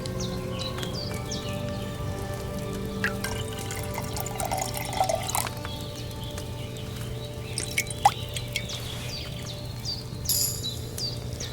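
Liquid poured into a cauldron in the video game Kingdom Come: Deliverance II trickles and drips steadily with a watery, bubbling texture over a low background hum, with scattered small splashes and a few clinks.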